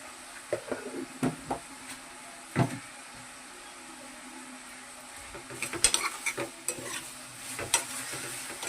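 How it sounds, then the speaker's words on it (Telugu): Brinjal and raw mango curry stirred in a pan over high flame, with scattered scraping and clinking strokes, soft sizzling between them, and a busier run of close stirring toward the end. "హై ఫ్లేమ్లోనే పెట్టుకొని కొంచెం బాగా కలిపేసుకుందాము"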